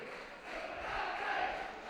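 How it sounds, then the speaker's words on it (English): Football crowd at Dens Park roars and chants after a Dundee goal against Livingston in a First Division match, a broad distant swell of voices that grows louder. "the Dens crowd coming alive now"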